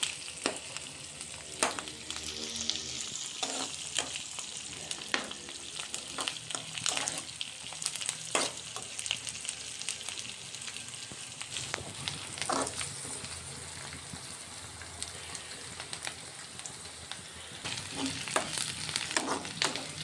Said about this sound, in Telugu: ఆనియన్, పచ్చిమిర్చి, పల్లీలు వేగిపోయాయి